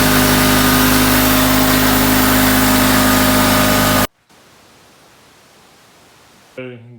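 A Honda HT3813 riding lawn mower engine runs loud and steady with a dense droning roar, then cuts off abruptly into near silence before a brief rattle at the end.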